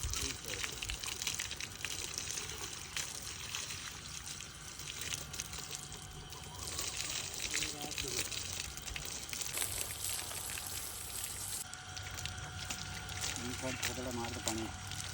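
Water splashing and pouring steadily while Sultan is bathed outdoors, a continuous wet rush with intermittent sloshing, moderately close, with voices talking over it.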